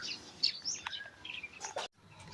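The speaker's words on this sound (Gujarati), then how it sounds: "ચકલીઓનો કલરવ ચાલુ" Sparrows chirp in a village in the morning, with a few quick, faint tweets scattered over a quiet background.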